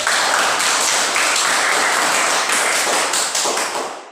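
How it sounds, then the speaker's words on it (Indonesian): Applause in a classroom: a short burst of steady, dense clapping from a group of students, close and fairly loud, tapering off at the end. "Oke, baik, tepuk tangan untuk Ruth."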